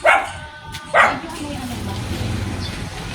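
A neighbor's dog barks twice beside a Filipino home, two sharp nearby woofs about a second apart, followed by a low steady background hum.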